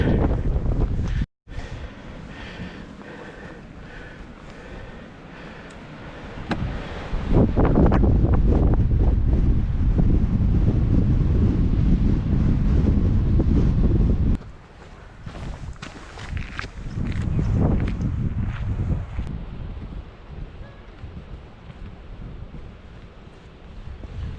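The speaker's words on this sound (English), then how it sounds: "A bit blowy up here" Strong wind buffeting the microphone on a clifftop in West Cornwall, a loud, continuous roaring rumble that surges and eases, with no talk.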